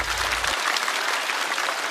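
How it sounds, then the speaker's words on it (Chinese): A studio audience at a stand-up comedy show breaks into steady, dense applause, loud and continuous throughout, with no voices over it. "掌声送给小帕。"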